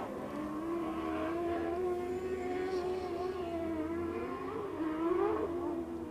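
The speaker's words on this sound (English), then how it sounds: "There's that classic SR1 sound right there. So Scott Webster" A Big Cars race car powered by a Yamaha R1 engine howls on the track, its high, buzzing engine note rising and falling steadily over several seconds at moderate loudness.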